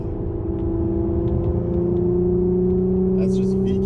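An Infiniti Q50 with the VQ 3.7 engine and an Invidia Gemini exhaust revs up, its pitch climbing smoothly in a loud, sustained drone as someone talks over it.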